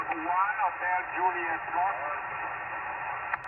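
Amateur radio voice transmission received from another park-to-park station during an outdoor activation at a wildlife management area, a band-limited, slightly distorted voice coming through the receiver over steady hiss, continuous for a few seconds.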